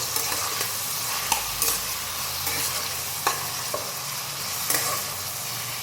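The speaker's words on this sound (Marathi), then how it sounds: "ह्याच्यामध्ये कांदा आणि टोमॅटो घालतो आहे आपल्याला हे छानपैकी आता परतून घ्यायचं आहे" Onion and tomato frying in hot oil and ghee in a kadhai for chicken biryani: a steady close sizzle runs throughout, with intermittent scraping stirs and light clatters of a spoon against the pan. No one speaks.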